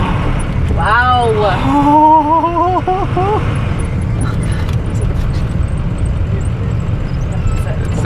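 A car rolls very slowly along a road in the Colorado Rockies, its steady low engine and road rumble running throughout, while a person briefly exclaims early on.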